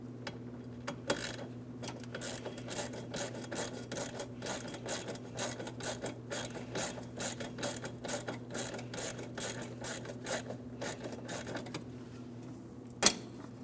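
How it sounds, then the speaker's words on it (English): 7mm ratchet working a fuel filler neck hose clamp on a 2005-2010 Chrysler 300: a faint, rapid series of small mechanical clicks repeating steadily over a low hum, with one sharper click near the end. "our one clamp that we're going to be loosening with a 7mm"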